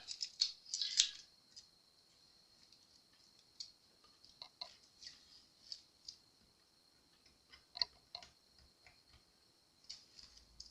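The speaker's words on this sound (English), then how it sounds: "see me take tape off of a fretboard" Tape being peeled off a guitar fretboard during work on a Fender Spark-o-matic, faint crackling rips and small ticking snaps coming in short irregular bursts, close up and quiet with no talking.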